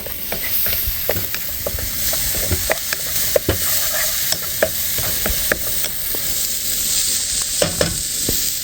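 Food fries with a steady, bright sizzle in a pan outdoors at a riverside campsite, while a utensil stirs and scrapes it in irregular clicks and knocks close by, with no talking.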